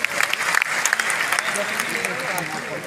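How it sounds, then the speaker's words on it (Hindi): Loud, dense applause from a seminar audience at a maths meet-up in Patna, a steady wash of clapping with a voice speaking over it throughout. "एक बार सर के लिए जोरदार तालियां।"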